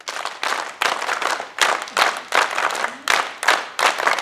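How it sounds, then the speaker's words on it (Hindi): College students at a scout and guide drill clap in unison, sharp bursts of group clapping repeating in a steady rhythm about every half second, loud and close with no talk over it. "ताली बजा।"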